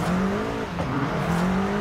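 Tuned Abarth 595 Esseesse with around 700 horsepower revs in Forza Horizon 5, its engine drone holding a steady pitch, dipping briefly, then climbing again over a loud, continuous roar.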